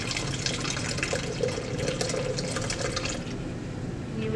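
Photographic fixer poured into a cleaned measuring cup while developing one roll of film, a steady close liquid pour running without pause, slightly lighter near the end.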